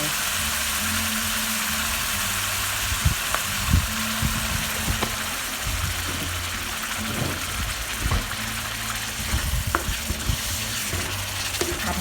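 Chicken stir-fried with chili curry paste and vegetables in a hot pan, a continuous loud sizzle with scraping stirs of the spatula recurring every second or two, and no talking.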